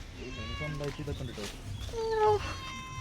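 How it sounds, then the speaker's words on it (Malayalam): A cat gives a few short meows close by, and people chat at the same time. "ക്യൂട്ട് പൂച്ച"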